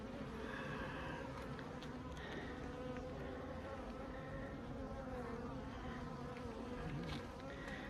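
A dense, continuous buzz of many honeybees, mostly nurse bees, on a hive frame close by, droning steadily with small rises and falls throughout.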